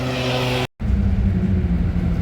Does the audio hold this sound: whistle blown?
no